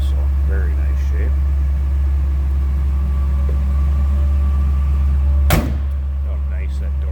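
A 1966 Chevrolet C10 pickup truck engine runs at a steady low idle, a deep continuous rumble with a sharp knock or door thud near the end.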